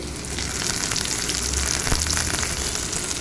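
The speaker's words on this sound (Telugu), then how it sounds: "ఇప్పుడు అదే నూనెలో కట్ చేసుకున్న ఆనియన్స్ కూడా వేసేసుకోవాలి." Chopped onions hiss and crackle in hot oil for a cabbage chutney, an even, dense sizzle held close and loud for a few seconds with a brief stir near the middle.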